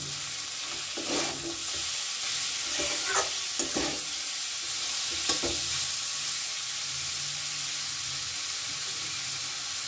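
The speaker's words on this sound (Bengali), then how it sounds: "এবার এটা সুন্দর করে মিশিয়ে নেব।" Chow mein noodles are stirred in a frying pan over a steady sizzling hiss, with a few scraping, clinking strokes of the utensil in the first half, close and continuous.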